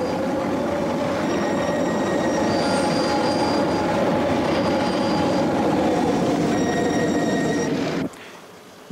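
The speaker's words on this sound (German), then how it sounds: "Und zum ersten Mal fährt eine Lokomotive mit besonders schweren Testwagen rüber." A locomotive hauling especially heavy test wagons rolls across a newly built railway bridge, a steady loud rumble of wheels with high squealing tones that continues without a break, then cuts off abruptly near the end.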